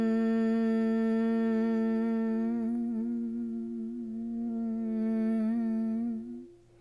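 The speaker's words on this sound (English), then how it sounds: "Connect into the breath and just let out a Brahmari breath." Steady humming Bhramari breath with lips closed, one long nasal hum sustained for about six seconds with a slight wavering pitch, close and soft, fading at the end.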